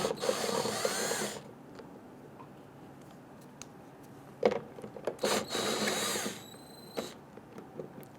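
A power tool loosens and removes 10mm bolts from the fuel tank of a 1994-2004 Ford Mustang, two separate whirring bursts of about a second each with rattles and clicks of handling between them, nearby.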